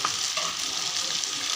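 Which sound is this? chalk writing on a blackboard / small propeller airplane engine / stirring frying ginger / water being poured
stirring frying ginger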